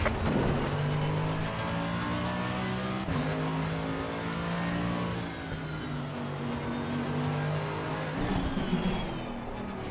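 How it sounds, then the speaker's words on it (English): Engines of GT3 race cars in a racing video game at Imola, with a steady loud engine drone and shifting pitch as faster cars close in from behind, no talk. "Faster car coming up behind."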